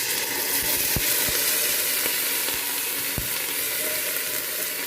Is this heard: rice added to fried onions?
yes